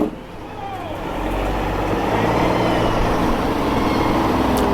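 A NASCAR race team hauler truck rolls into New Hampshire Motor Speedway during the July parade, its low engine rumble building and holding steady close by, with faint voices in the background.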